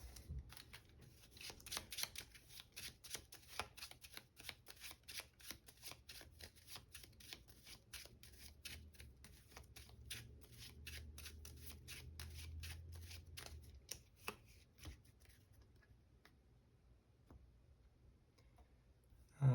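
Playing cards from a Marvel Champions game are shuffled quietly and close by, making a long run of rapid, papery riffling ticks over about fifteen seconds that ends in a single soft knock.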